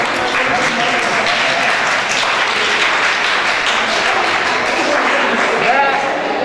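An audience at a regional intelligence-games festival applauds as a second-placed team's captain is called up, a sustained, fairly soft patter of clapping filling the whole stretch.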